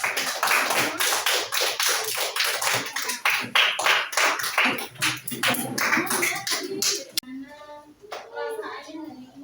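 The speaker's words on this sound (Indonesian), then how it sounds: "silakan beri tepuk tangan untuk kelompok" A classroom of children claps for a group during a religious education lesson, giving a dense, lively burst of applause for several seconds. It tapers off and gives way to a teacher's voice.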